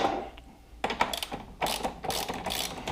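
A ratchet with a 13 mm socket works on the bottom bolt of a Can-Am Spyder RT Limited's rear air-ride compressor. Close bursts of rapid metallic clicking follow a brief pause, with no one talking.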